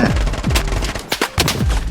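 Rapid MP5 automatic gunfire bursts in the video game BloodStrike, loud and close, with short pauses between volleys and sharp impacts.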